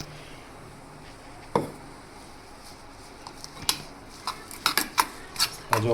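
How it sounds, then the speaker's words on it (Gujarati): Spoon scraping and stirring pea masala filling for crispy matar rolls in a pan off the heat, scattered faint clinks and sharp scrapes against the metal, sparse at first then quicker and more frequent. "હવે પછી આમ હલાવી લેવાનું."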